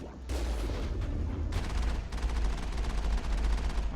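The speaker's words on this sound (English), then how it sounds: "And I'm getting shot. The sniper rifles actually do a lot." Gunfire in the video game Mass Effect, with sniper rifles firing: a loud, sustained barrage of cracking shots and rumbling impacts that keeps a heavy low-end roar, with sharp bursts breaking in at intervals.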